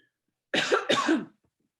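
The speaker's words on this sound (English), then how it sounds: "I have a cough" A single short burst of coughing, two quick close hacks in a row, loud and near, with silence before and after.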